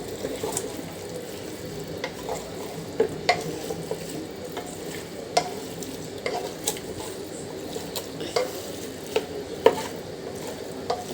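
Beef is worked by hand with spices, giving soft, wet squelching and stirring sounds with sporadic sharper clicks, close and steady, with no talking.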